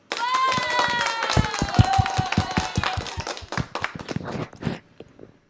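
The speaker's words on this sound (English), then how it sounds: "you all deserve a round of applause." A synthesized voice chord fades out while scattered, distinct claps and taps ring out in a loose uneven rhythm, thinning toward the end of the end of a live stream.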